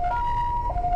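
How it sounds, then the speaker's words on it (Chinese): An ambulance siren on a winding mountain road wails with a steady, piercing tone in a brief burst, over a low road rumble from the moving vehicle. "救护车紧急驶进山间弯道"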